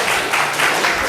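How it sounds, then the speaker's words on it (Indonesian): A group in an Indonesian classroom or training session claps, giving a short burst of dense, even applause from many hands. "Tepuk tangan, tepuk tangan."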